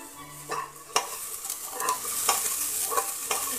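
Onion paste frying in a pan for Amritsari pindi chole, a steady sizzle with several sharp scrapes of stirring spaced through the clip, close and moderately loud with no voices.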